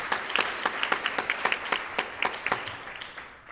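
Audience applause at a talk on climate and health, a small crowd clapping in an uneven patter that tapers off over a few seconds, moderately distant.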